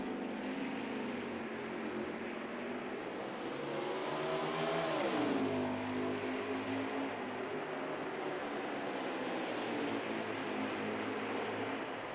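Race cars battle for the lead at Road America in a racing video game, with engines droning and a car revving up and then dropping away mid-clip while a steady roar of engine noise continues throughout, with no talk.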